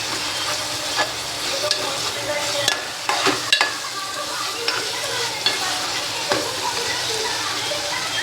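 Spice masala fries in oil released in a pan while cooking paneer dum biryani, a continuous close sizzle with intermittent scraping stirs and clicks.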